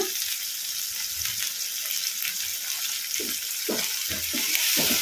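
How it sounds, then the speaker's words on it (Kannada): Ginger garlic paste frying over medium flame in a pan, a steady bright hiss of oil with occasional low stirring scrapes toward the end, close and moderately loud, no talking. "ಅಲ್ಲ ಬೆಳ್ಳುಳ್ಳಿ ಪೇಸ್ಟು ಹಸಿ ವಾಸನೆ ಹೋಗೋವರೆಗೂ ಫ್ರೈ ಮಾಡ್ಕೊಂಬಿಡೋಣ ಮೀಡಿಯಮ್ ಫ್ಲೇಮಲ್ಲಿ"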